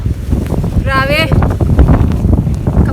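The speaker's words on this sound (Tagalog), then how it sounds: "Ang lakas ng snow at hangin." Strong wind during a Canadian snowstorm, a loud rushing roar buffeting close, with people talking and exclaiming over it.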